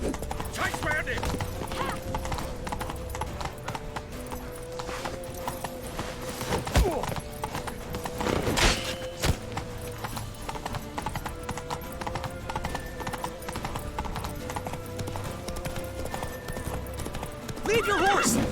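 In The Witcher 3 a horse gallops with steady, fast hoofbeats and lets out neighs, loud and close, running continuously under voices and game music throughout.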